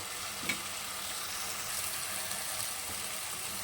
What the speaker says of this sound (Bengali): তো এখানে ভালো করে আমি মশলাটা কষাচ্ছি, দেখতেই পাচ্ছ।